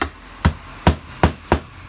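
A hammer drives a nail with five sharp, evenly spaced blows, each a loud close crack that rings off quickly, in a quiet setting.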